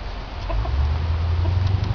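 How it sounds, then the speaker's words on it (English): A rooster clucks and murmurs close by in a yard, over a low, constant rumble of background noise. "There's my mean rooster."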